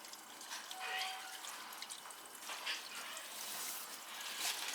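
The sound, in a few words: water running through cast iron drain pipe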